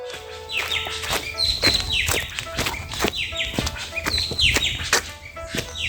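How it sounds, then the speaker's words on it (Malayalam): Birds chirp repeatedly in quick, overlapping calls, sharp tweets recurring in a busy rhythm close by, with no talking. "കിളികളുടെ സൗണ്ട് കേട്ടോ"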